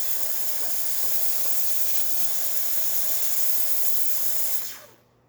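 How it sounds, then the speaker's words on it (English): Jura F7 coffee machine's milk steamer hissing steadily and loudly for nearly five seconds after a service tune-up, a continuous bright spray of steam that abruptly cuts off near the end. "The steamer works perfect."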